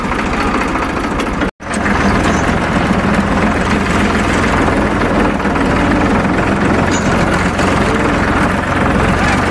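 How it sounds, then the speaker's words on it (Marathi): A tractor engine idles loudly and close, a heavy low rumbling throb that cuts out for a split second early on and then resumes, steady to the end. "फायनली निघाला ट्रॅक्टर बाहेरवर."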